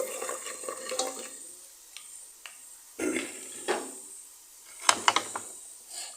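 Onions and chicken curry are stirred in a pan, with a spoon scraping and turning the food through intermittent sizzling, close by and moderately quiet, with no talking.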